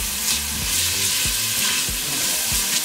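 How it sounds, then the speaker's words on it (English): Onions sautéing in hot oil for beef green chile, a steady, close, dense sizzle and crackle with soft stirring thumps recurring underneath. "once your oil is hot, we're going to add our onions. So we're gonna saute them."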